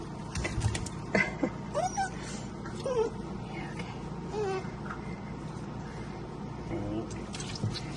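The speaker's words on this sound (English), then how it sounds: "I'll start letting the water out while they're still washing" Bath water drains steadily while a German shepherd puppy is washed, a continuous close watery rush with a few brief, high whimpers over it.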